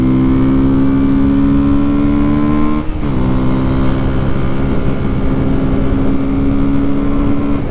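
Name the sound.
2019 KTM Duke 125 motorcycle engine accelerating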